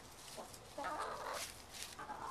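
Backyard chickens cluck softly while being fed crickets, a few short, quiet calls that rise briefly into a louder burst near the middle, with no talking.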